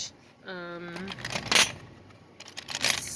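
Old brass and iron keys, one iron key painted to look like brass, jangle at a flea market or estate sale. The metallic rattling comes in two close bursts after a short tonal voice-like sound.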